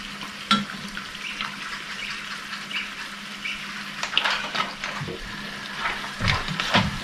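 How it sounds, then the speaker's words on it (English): Pasta cooking water tipped into a simmering sauce during a pipi clam cook-up, bubbling and sizzling with small splashes and pan scrapes that grow busier toward the end. "Put some of that water, doesn't matter, a bit of the water"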